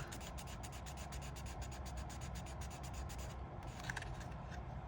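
Glued paper pressed and rubbed onto a paper rose cone for a spiral paper flower, a close, steady rasping friction with rhythmic strokes throughout and no talk.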